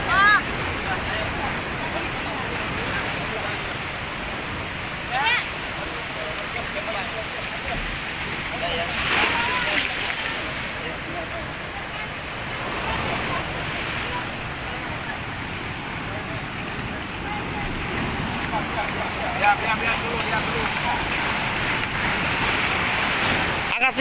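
Ocean waves at Pelabuhan Ratu, a south Java coastal town, roar and wash continuously throughout, loud and close, with wind buffeting the microphone and people talking underneath.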